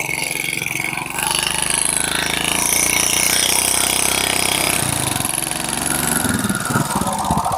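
A motorcycle engine running loudly up close, a steady buzzing drone that sputters and rises unevenly near the end.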